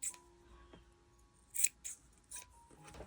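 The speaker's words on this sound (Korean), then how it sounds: "이 부분을 가위로 잘라서 가지런히 만들어주시면 됩니다." Scissors snipping through yarn while finishing a knitted charm, a few short crisp cuts in a quiet room with pauses between them.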